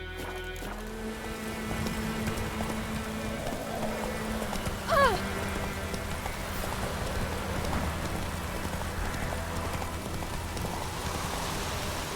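Hooves of Roach the horse clopping steadily through rain in The Witcher 3, a continuous patter of rainfall under the muffled hoofbeats, with a brief whinny-like note midway.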